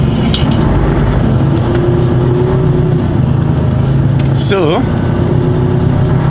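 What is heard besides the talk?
car driving out of the petrol station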